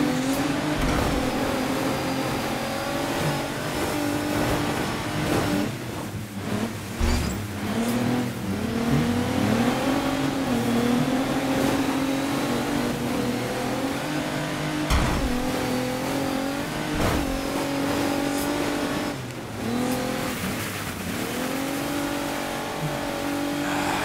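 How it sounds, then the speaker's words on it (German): A rally car drifts on snow in the racing game DiRT 3, its engine revving and surging continuously with rising and falling pitch and tire noise, loud and close throughout. "Schön driften hier auf dem Schnee, geil."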